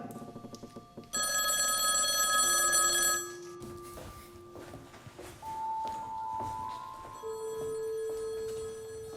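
A telephone bell rings in a bright sustained burst, followed by ringing tones and beeps that fade in and out over quiet background sounds.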